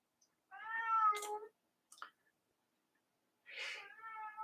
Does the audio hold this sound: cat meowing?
yes